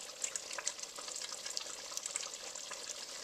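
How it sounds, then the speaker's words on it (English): Malaysian chicken curry simmering in a pot with the heat just switched off: a soft, steady bubbling and sizzling hiss with tiny pops, faint and continuous, no voices. "You can hear it really cooking there."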